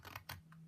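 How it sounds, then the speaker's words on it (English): Scissors snipping up the short sides of a small paper or card craft box, a few quick crisp cuts close by with a faint steady hum underneath. "And then on the shorter sides here, I'm just going to, snip up"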